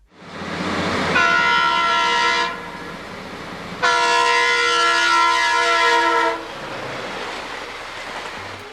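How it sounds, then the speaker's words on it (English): Two long, loud blasts sound from a Leslie RS2M horn on a rebuilt Burlington Northern E-unit commuter locomotive. The chord is steady and close, the second blast longer, with rail rumble beneath. "the locomotives featured a Leslie RS2M horn."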